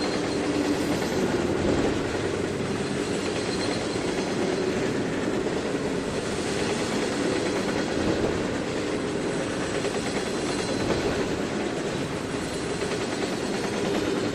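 Simulated train rolling through a series of turnouts in Trainz 2019, a continuous loud rumble of wheels and cars with a steady low roar and faint clatter, no voices.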